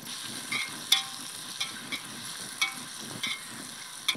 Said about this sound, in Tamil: வெங்காயம் சேர்த்துப்போம் வெங்காயம் வதங்க கொஞ்சம் உப்பு சேர்த்துப்போம்